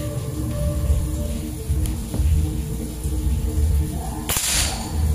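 A third single report from a folding AK-style 4000 psi PCP air rifle shooting at a target: one close, sharp snap with a short decay, rising out of steady low background rumble from a nearby puppet show.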